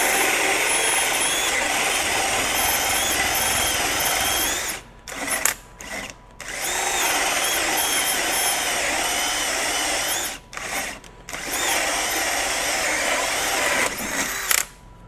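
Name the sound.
RIDGID 18V SubCompact drill boring with a 2 1/4 inch bit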